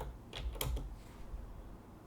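A few quick keystrokes on a computer keyboard while modeling a skatepark design in SolidWorks, a short cluster of clicks close by, then quiet room tone.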